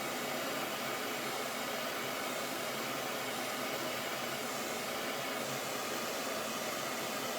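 A MAPP gas torch burns with a loud, steady, unbroken roar that holds at the same level throughout and has no other sounds over it.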